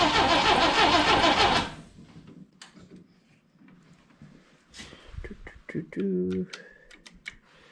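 An old Jeep engine cranks with a loud, dense rumble for the first second and a half, then drops away into quieter clicks, knocks and scattered mechanical sounds near the mic.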